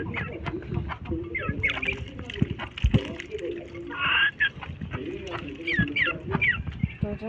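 Chickens cluck softly and repeatedly while pecking at feed, with scattered tapping, water splashes and brief chirps nearby, on a rainy day.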